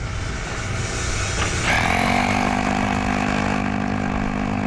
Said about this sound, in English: This is the 1 9/16 roto hammer.